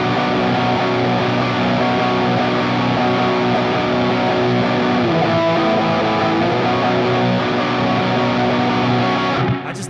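A sustained distorted electric guitar chord ringing loudly and evenly for several seconds, then cutting off abruptly at the end.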